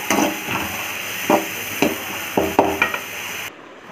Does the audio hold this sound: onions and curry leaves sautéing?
yes